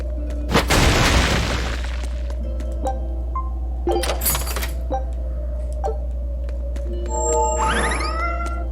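Near the end, a cat in Tales of Berseria gives a short rising meow. Before it come sharp clinks, knocks and a loud crashing burst over a low steady hum.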